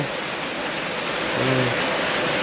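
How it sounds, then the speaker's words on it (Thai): Rain falls all around a Thai temple, a dense, even hiss of water on surfaces, with a brief tonal hum rising out of the wash just past the midpoint. "ฝนตกทัววัดเดี๋ยวนี้"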